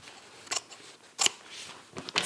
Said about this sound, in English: go ahead and cut the center out of the zipper pocket